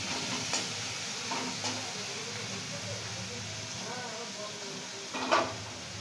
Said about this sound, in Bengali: মা গরম মশলা ফোড়নে দিয়েছিল, তারপরে মা পেঁয়াজ বাটা দিয়ে দিল